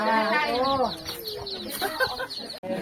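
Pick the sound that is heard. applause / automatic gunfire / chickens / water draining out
chickens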